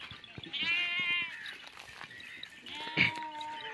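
A milking goat with four teats bleats twice nearby, one long wavering call followed by a shorter cry, with faint background noise between.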